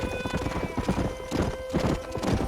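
Horse hooves clip-clop in a brisk, steady trot in the Red Dead Redemption western video game, close and clear with rhythmic paired beats over a faint ambient tone.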